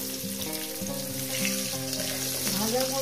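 Potatoes frying in hot oil, a steady crackling sizzle with occasional stirring, heard under prominent background music.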